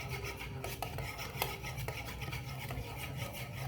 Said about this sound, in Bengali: এবার উপকরণগুলো ভালোভাবে মিশিয়ে নেব